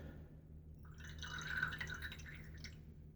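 Water splashing and dripping at a sink during wet shave prep, a faint, brief run of splashy drips over a low background hum.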